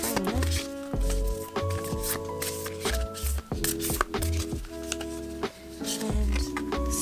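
Oracle and tarot cards shuffled by hand make repeated quick riffling and slapping bursts in an irregular rhythm, close and fairly loud, over a sustained tonal music bed.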